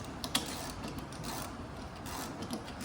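A ratchet loosens the blade bolts under a Honda lawn mower, giving faint rapid clicking and mechanical rubbing with a sharper click near the start.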